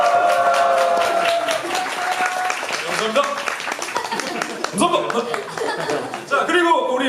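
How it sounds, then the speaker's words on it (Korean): An audience applauds at the DreamNote Dream Wish K-pop showcase at YES24 Move Hall, a loose patter of clapping and chuckles with voices talking through it. "저희 MC 오빠에게 박수 한 번만 주세요."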